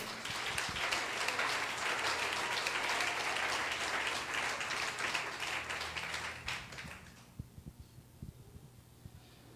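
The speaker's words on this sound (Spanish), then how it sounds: "Denle un aplauso al Señor." A church congregation applauds steadily for about seven seconds, a warm wash of many hands that thins out into a few scattered claps and a quiet hall.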